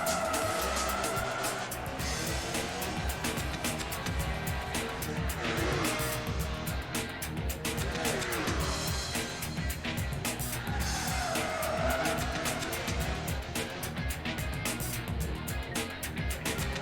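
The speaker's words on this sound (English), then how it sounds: "The Maserati MC12 is a powerful car, and Max Fatality is able to keep ahead by a few lengths." A Maserati MC12 race car in Project Gotham Racing 3 roars with a revving engine, its tires skidding and squealing repeatedly through corners. A voice talks over the loud, continuous engine noise.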